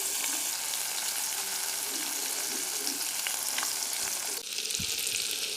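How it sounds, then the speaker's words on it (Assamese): Fish, washed and cleaned, fries gently in hot oil for an Assamese fish curry, giving a steady, dense sizzle with a few soft stirring clicks, heard up close and alone. "কোমল হৈ থকাৰ কাৰণে ফ্ৰাই কৰিম"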